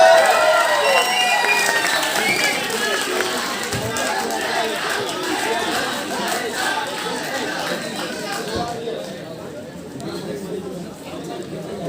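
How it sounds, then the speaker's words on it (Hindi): An audience at a university open mic event applauds a performer, steady clapping blended with crowd chatter and voices that slowly fades toward the end. "तो अभिषेक मेहता के लिए एक बार जोरदार तालियां।"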